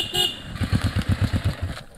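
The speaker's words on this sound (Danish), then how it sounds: "Det er en fin knaller" A moped being tried out at a backyard barbecue party: its small engine putters in quick, even pulses for about a second and a half, fairly loud and close, then cuts off.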